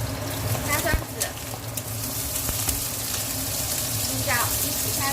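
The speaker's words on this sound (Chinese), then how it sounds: "青椒一起下去炒" Garlic and green peppers stir-fry in hot oil with rendered pork fat, a steady close sizzle with scraping stirs and clinks, while a voice talks over the cooking.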